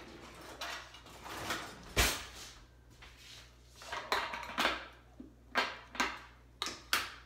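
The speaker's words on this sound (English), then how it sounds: "I'll grab one more spoon for my chia seeds" Spoons grabbed in a home kitchen while preparing chia seeds and almond butter, with a series of sharp clinks, clatters and drawer knocks close by.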